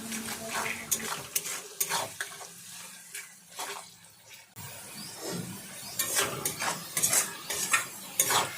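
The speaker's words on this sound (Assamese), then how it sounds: "গল্ডেন ব্ৰাউন হোৱালৈকে মই ভাজি ল'ম।" Salted onions frying in a pan until golden brown, a softer sizzle broken by repeated clinks and scrapes of a spatula stirring against the metal pan.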